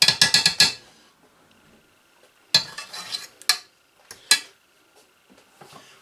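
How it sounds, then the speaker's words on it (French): Ingredients for pâté de tête, a pressed pork head cheese, are stirred together in a bowl, giving a quick cluster of clinks and scrapes at the start, then scattered louder scraping strokes after a quiet pause. "On mélange bien."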